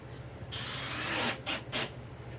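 A power drill drives 1 1/4 inch screws into a wooden desk, a loud rising whir with grinding bite that stops and restarts in short bursts, close up with no voices.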